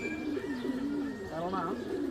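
A black male pigeon kept for breeding pairs coos steadily and close up, its low rolling calls going on under a voice that talks over part of it.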